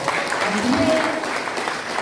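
Audience applause after a lecture at a Korean knowledge forum: steady, moderately loud clapping from a seated crowd, with a voice speaking over it throughout.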